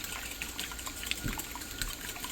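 Water poured from a tap while making an omelet, a soft continuous trickle and splash with small bright spatters, steady and fairly close in a quiet kitchen.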